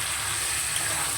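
Ground spice paste made from whole red chilies hits hot oil in a pan while a small-fish curry with green tomatoes cooks, giving a steady, close, even sizzle that holds for the whole moment with no voices.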